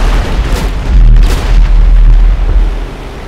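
Bomb explosions in a GTA 5 WW2 mod battle against a Bismarck battleship, a string of deep rumbling booms rolling one into the next, loud and heavy with low-end thunder throughout.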